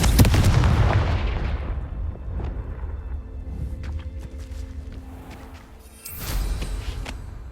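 A Confringo fire spell bursts in Hogwarts Legacy with a heavy booming explosion that rumbles and slowly fades. A few faint clicks and steps follow, then a second sharp burst lands near the end.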